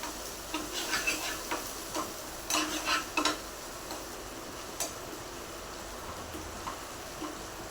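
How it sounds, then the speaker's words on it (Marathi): A chutney paste of onion, tomato, garlic, green chili and salt sautéing in oil, with a low sizzle and a series of clicking spoon stirs and scrapes against the pan, no voices. "ही तीही चांगली परतून घेऊया"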